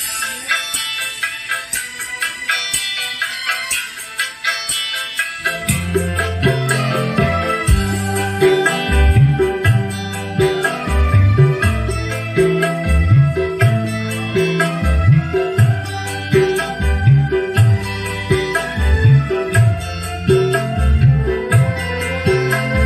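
Bright, thin music plays through a tweeter powered by an Ashley EV2800 amplifier fed from a phone, quiet at first and then joined by a steady rhythmic pattern, with no talking.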